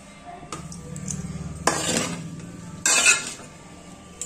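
A spoon stirs spice powders and coconut powder through uggani, a Rayalaseema puffed-rice dish, scraping and clinking against a metal pot in a few bursts of close, loud stirring.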